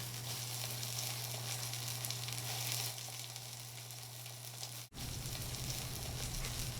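Onions, garlic and chorizo sizzle steadily in a hot pan, a continuous close frying hiss with a low hum underneath and a brief dropout near the end.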